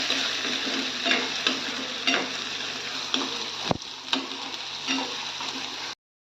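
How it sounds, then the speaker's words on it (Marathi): Onion and garlic frying in a pan for a vegetable dish of gram-and-moong-dal dumplings: a steady, close, continuous sizzle with occasional stirring scrapes, ending abruptly. "आपला लसूण लाल झाला की आपण त्यात कांदा टाकणार आहोत आणि कांदा पण चांगला लाल होऊ द्यायचा आहे फ्राय एकदम"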